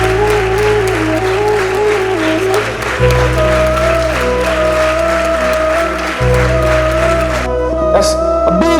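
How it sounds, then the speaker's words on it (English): A hall audience applauds the first-prize team at a national hackathon award ceremony, continuous loud clapping blended with background music playing throughout. "a big round of applause for the Team Downhill Decoders for securing the first prize"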